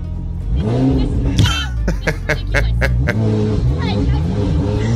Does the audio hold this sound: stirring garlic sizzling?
no